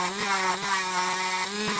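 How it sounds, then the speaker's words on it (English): A Dremel rotary tool grinds down a servo mount on an SCX24 RC axle, giving a loud, steady high-pitched whine with slight dips in pitch as it bites into the part. "I'm going to go ahead and Dremel this down"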